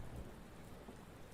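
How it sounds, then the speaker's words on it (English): Steady rain falling and pattering on surfaces, a continuous even wash of noise with a deep low rumble underneath, no voices. "honestly I like the rain so much, I'm just gonna leave you with it"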